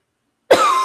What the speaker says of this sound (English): I'm just going to muffle my cough.